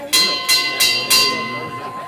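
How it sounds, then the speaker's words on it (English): A bell rung by hand at a city council meeting, four bright clanging strikes spaced about a third of a second apart, each ringing out briefly, with chatter from the room around it. "Can I ring the bell?"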